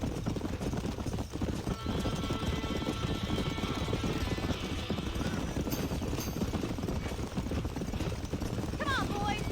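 Horses clatter and whinny in a video game as a barn burns, hooves pounding steadily under a constant roar of noise, with a sharp neigh near the end and people shouting over the commotion.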